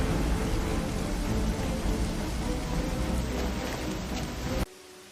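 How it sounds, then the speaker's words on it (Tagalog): Steady, dense rain hiss fills the scene with a low rumble beneath, then cuts off abruptly near the end. "Lalong lumalakas ang ulan."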